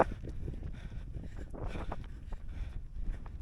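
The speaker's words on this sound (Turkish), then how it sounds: "Rüzgar gerçekten fazla." Steady gusting wind buffets the microphone during a half marathon race in Gordion, with a continuous low rumble and broadband rush, rising and falling slightly throughout.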